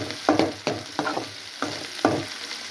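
Onions frying in a pan for a spicy egg powder dish, sizzling steadily while a spatula stirs and scrapes in several distinct close strokes spaced about half a second apart.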